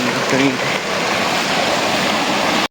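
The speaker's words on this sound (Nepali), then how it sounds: "झरना पानी सलल आइरहेछ" A waterfall beside the Annapurna Base Camp trail in Nepal rushes steadily and loudly throughout, a dense continuous roar with a faint voice briefly audible near the start.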